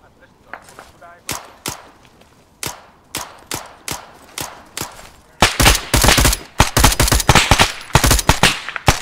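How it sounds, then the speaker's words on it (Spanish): Gunfire in the military shooter Arma 3: sharp single shots spaced out at first, then rapid automatic bursts crowding together, loud and close. "Ahí está, tres tiros."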